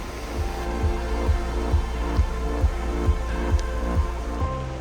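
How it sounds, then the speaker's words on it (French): Heavy, pounding rain falls steadily on a road in Bosnia during a road trip, a dense continuous hiss heard alongside a rhythmic thumping from the vehicle. "malgré la pluie battante"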